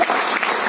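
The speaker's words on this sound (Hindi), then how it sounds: "तालियां होनी चाहिए इनके लिए।" Audience applause at an interview event, a brief dense burst of clapping heard alone at a loud, even level.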